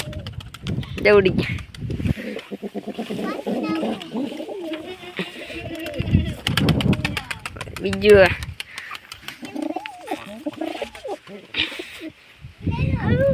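Domestic pigeons at a loft coo in soft, repeated throaty calls that rise and fall, mixed in with frequent nearby talk and some rattling.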